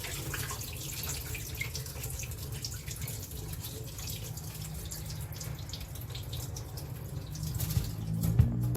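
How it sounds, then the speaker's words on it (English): Water pours off washed gungo peas and rice in a kitchen pot, a continuous splashing, trickling stream that runs steadily at close range and picks up slightly near the end. "I pour off the most of the water."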